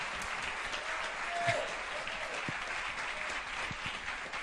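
A church congregation applauds a preacher as he is welcomed forward, steady dense clapping filling the room throughout with a brief whistle-like tone and a few scattered voices over it.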